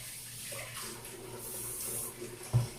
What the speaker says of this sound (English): we're going to wash our hands first of all